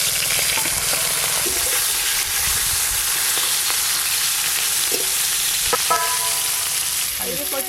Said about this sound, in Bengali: ইলিশ মাছের মাথাগুলো ভাজার জন্য কড়াতে সর্ষের তেল দিয়ে দেব।